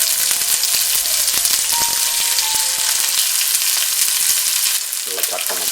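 Ginger, green chili and onion sauté in hot oil for a fish curry, giving a loud, continuous sizzle with scraping stirs and a few metallic clinks from the pan.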